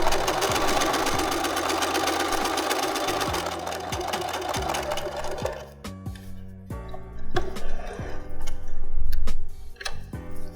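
A sewing machine runs steadily while stitching a back stitch lock on a bag, a loud continuous mechanical whir that gives way to choppier, rhythmic clatter as the stitching stops and restarts.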